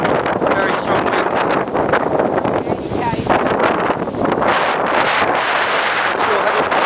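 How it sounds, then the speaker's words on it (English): Very strong wind carrying dust ahead of a passing low storm, a loud, constant roar buffeting the microphone with rough gusty swells throughout. "Very strong wind."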